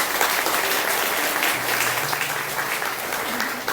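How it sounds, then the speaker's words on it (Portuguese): A church congregation applauds during a sermon, a steady wash of clapping throughout with a faint low hum underneath. "Vamos aplaudir a palavra do nosso Deus."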